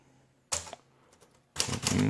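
A 1938 Corona Sterling portable typewriter being typed on, one sharp mechanical clack followed by a pause, then a dense rattling burst of keystrokes and carriage movement, close and loud.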